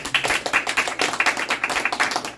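An audience claps in a quick, even patter of many hands, close and fairly soft, lasting only a couple of seconds with no voices.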